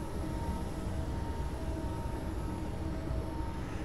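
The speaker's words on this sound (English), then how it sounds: "I think it's because that train's leaving up there" Train departing in Train Simulator 2013, a steady low rumble and mechanical drone that hangs in the distance, quiet and unbroken throughout with no talk over it.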